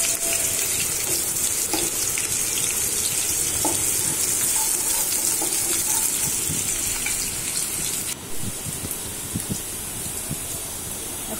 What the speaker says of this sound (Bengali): আমি দিয়ে দিলাম পেঁয়াজকে একটু ভেজে নিব।